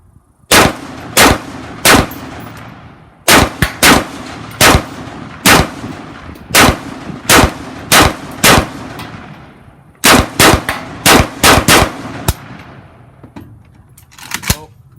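Prototype adjustable-gas AK rifle firing on a reduced gas setting, a series of loud, sharp close-range shots in irregular groups of singles and quick doubles, each ringing briefly.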